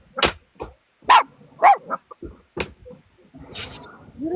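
A puppy dog barks in several short, sharp bursts spread across the moment, close and fairly loud, with a voice talking alongside.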